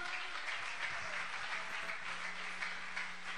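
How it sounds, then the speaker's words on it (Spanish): Congregation clapping along at a live Christian worship concert, a steady dense patter of hands that holds at an even level throughout, with a faint sustained tone underneath. "palmas al Señor"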